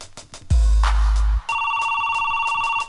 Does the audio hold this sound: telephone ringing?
yes